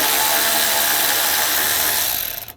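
A power tool with an 8mm socket backs a screw out of the fan assembly on the AC condenser of a 2013-2016 Dodge Dart 2.4L, a steady close whirring buzz lasting about two seconds before cutting off.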